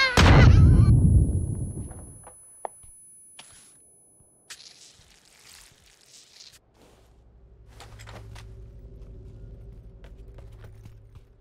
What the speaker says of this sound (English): I'm gonna nade myself.